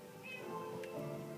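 A cat meows once in a video game, a short, faint, plaintive call over low tonal background sound.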